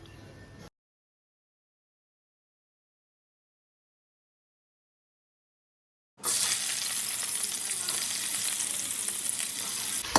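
Onions fry in hot oil for a mandi rice dish, a loud steady sizzle with faint stirring that kicks in after several seconds of silence.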